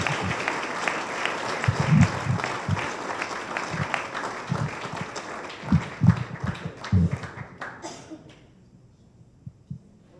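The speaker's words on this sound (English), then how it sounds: "Give a big round of applause to Mr." Audience applause breaks out at a painting contractors' awards event honoring a member of the year, dense clapping with heavy hand claps that fades to near silence after about eight seconds.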